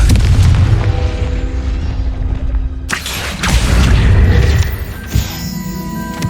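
The Confringo spell goes off in Hogwarts Legacy with a loud, deep booming blast and rumble, then a sharp second burst and crackling debris as the explosion fades.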